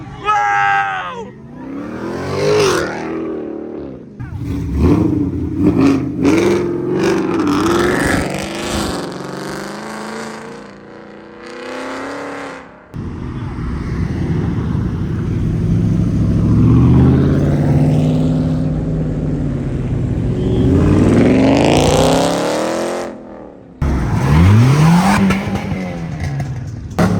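A modified car revving hard and doing burnouts, with rising and falling engine wails, screeching tires and long skids, loud and close, with occasional voices of onlookers.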